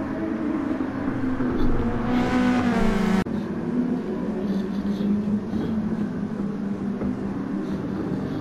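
Race cars of the SUPER GT×DTM exchange race accelerate together at the restart after a safety car period, a loud rising engine roar with a sharp whining surge near the three-second mark, then a sustained close drone.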